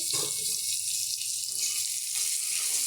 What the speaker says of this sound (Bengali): গরম তেলে পেঁয়াজ দিচ্ছে